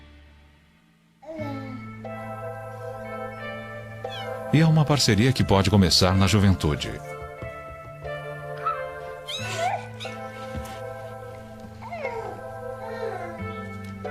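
Domestic cats and six-week-old kittens meow repeatedly, several high plaintive calls overlapping and rising into a loud cluster, with a narrator talking over them.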